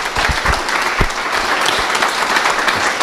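Sustained audience applause at a political talk about Basque and Catalan nationhood, dense steady clapping filling the room at an even loudness throughout.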